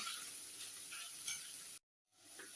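Onions and peppers sizzle in a frying pan while being stirred, a steady close frying hiss that cuts out abruptly near the end and then returns more softly.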